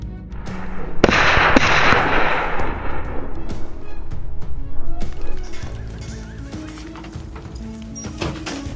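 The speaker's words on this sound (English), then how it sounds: "I fired a few rapid shots and dropped the target within seconds" Rapid rifle shots ring out during a wild boar hunt in a swamp: a few loud, sharp cracks close together with echoing tails, followed by quieter outdoor commotion.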